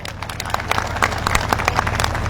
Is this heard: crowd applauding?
yes